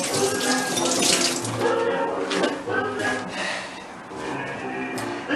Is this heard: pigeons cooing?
no